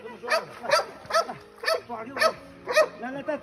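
A dog just pulled by hand from a frozen lake gives a run of about six sharp, evenly spaced barks or yelps, close and fairly loud, with voices faintly in the background.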